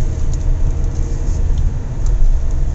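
A 2021 Tata Harrier automatic SUV drives through a bend, a steady low cabin rumble of engine and road noise with faint tyre hiss, heard from inside and without talk.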